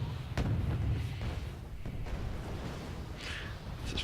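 Artillery volleys in the Wargame AirLand Battle strategy game: a dense, rumbling barrage with several sharp booming reports, one prominent near the start, over a continuous low roar of distant fire.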